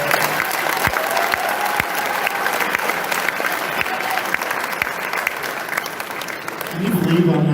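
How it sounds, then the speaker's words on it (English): Sustained, fairly loud applause from a crowd of shooters at a USPSA Carry Optics Nationals awards ceremony, with scattered sharp individual claps and a voice starting to talk near the end. "So give yourselves a round of applause."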